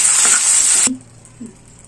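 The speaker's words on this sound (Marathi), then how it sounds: "तर या तुपामध्ये मी हे सगळं व्यवस्थित एकत्र करून घेते" Rice and sugar stir-fried in ghee for Maharashtrian narali bhat give a loud, close hissing sizzle for nearly a second, then drop abruptly to a quiet pan with a faint scrape.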